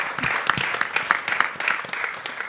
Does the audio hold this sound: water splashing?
no